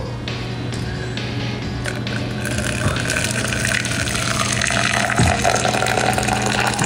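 Boiling hot water is poured in a steady stream, making a continuous broadband rush and hiss that stays fairly loud throughout over a low steady hum.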